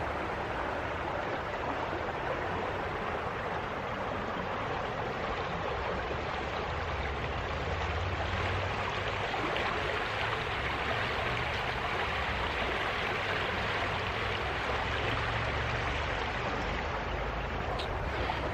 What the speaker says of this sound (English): that's the Yellow Breeches. Runs by my house. It's a beautiful beautiful creek.